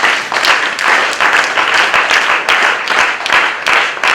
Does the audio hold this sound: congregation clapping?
yes